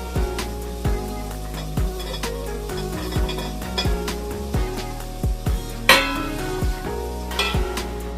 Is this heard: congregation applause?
no